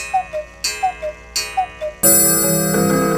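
Clocks ticking in Heritage House Clocks, a clock shop in Dallas: a steady run of sharp ticks and chimes, then a loud sustained bell-like ring from about two seconds on, close and clear with no talk.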